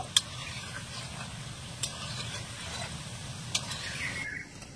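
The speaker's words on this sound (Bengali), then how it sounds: "তবে আমি যেহেতু আজকে কালো জাম মিষ্টি বানাবো তার জন্য আমি আরেকটু কালো করে ভেজে নেব।" Semolina kalojam sweets fry in oil with a steady low sizzle and bubbling, broken by a few sharp clicks from a utensil against the pan.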